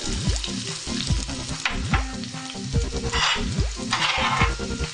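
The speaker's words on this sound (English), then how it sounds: "Then add my rough chopped 1 medium onion" Roughly chopped medium onion hits vegetable oil, giving a steady crackling sizzle with bright bursts of spitting and popping, close and loud, with no voices.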